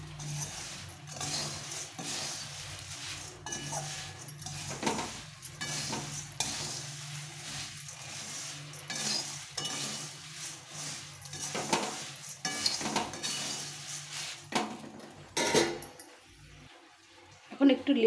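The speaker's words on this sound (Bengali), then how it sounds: "দিয়ে আবার খানিকক্ষণ এটাকে ভেজে নিতে হবে" A spoon scrapes and stirs puffed rice with roasted peanuts in a frying pan in repeated bursts over a soft sizzle, with occasional louder clatters against the pan.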